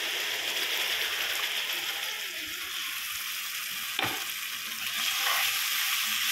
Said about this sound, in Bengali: মশলাটা এখন সুন্দর করে ফ্রাই করে নিতে হবে আমাদের